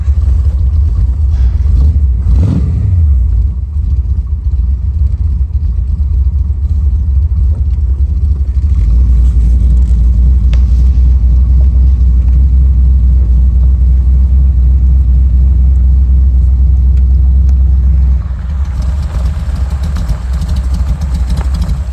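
A 1932 Ford Highboy Roadster with a Roush engine roars continuously as it drives at speed, deep rumbling low end with heavy wind buffeting throughout.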